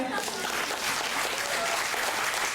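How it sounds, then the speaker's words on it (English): Dense audience applause at a health talk, steady and loud throughout with no break, like a full room clapping together. "I feel like we could do it again"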